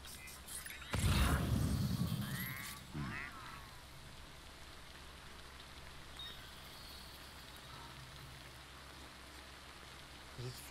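Steady rainfall in the video game Death Stranding, a continuous hiss of rain on surfaces with a brief loud rumble and a chirping effect near the start before the downpour settles into an even wash.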